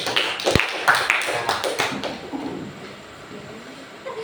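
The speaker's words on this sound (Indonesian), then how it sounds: "Beri tepuk tangan dong pada teman yang berani memimpin." Classmates clap for a student who led the class, a short burst of many hands clapping in a classroom under a teacher's voice, then fading out.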